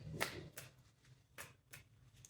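Several quick, soft bursts of tarot cards being shuffled, close and quiet, spaced unevenly over a couple of seconds.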